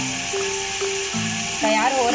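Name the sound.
beef frying in a pan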